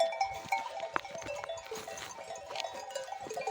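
A flock of sheep moves about on a mountainside, with a bell clanking irregularly and faint animal sounds in the background, no talking.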